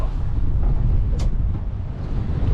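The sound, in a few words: wind blowing on a fishing boat at sea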